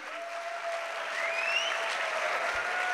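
A mushaira audience claps to welcome the poet Zahid Bashir on stage, a loud sustained wash of applause with a faint whistle-like tone gliding through it and no speech.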